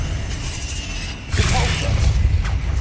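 Confringo, a fire-blast spell cast in Hogwarts Legacy, goes off with a sudden forceful burst partway through. A rumbling, crackling blast then carries on over a low background.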